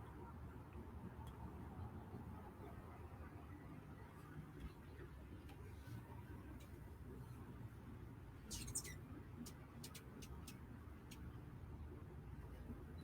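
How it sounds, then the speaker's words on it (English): Hummingbirds chirping outdoors, a few faint, brief high twitters and a quick cluster of tiny chips over a low steady background hum. "You might even be able to hear the hummingbirds now."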